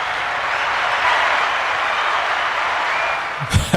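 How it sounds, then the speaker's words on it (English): Studio applause sound effect: a steady wash of clapping and cheering lasting a few seconds, ending abruptly as a voice begins. "We had to give him the applause."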